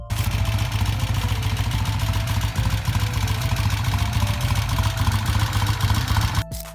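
A 1963 Triumph Bonneville T120 motorcycle engine runs at a steady, loud, throbbing idle, close up and continuous before cutting off abruptly near the end.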